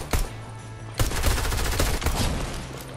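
Dense bursts of video game gunfire, a rapid fusillade with overlapping shots that starts briefly, pauses, then rolls on loudly and continuously for the rest of the moment.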